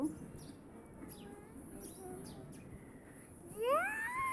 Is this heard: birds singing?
yes